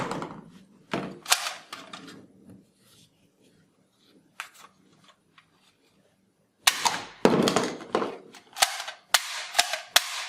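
A colourful toy gun fires soft bullets in sharp, close pops: a few spaced shots early, a quiet gap, then a rapid cluster of snappy shots near the end.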